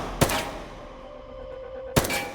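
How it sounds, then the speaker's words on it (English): Two sharp gunshots from a TV show action scene ring out about two seconds apart, each a loud broadband crack with a brief tail, separated by a quieter stretch of low background tone. "The first guard barely had a chance to react before Butcher put a bullet in his chest, dropping him instantly"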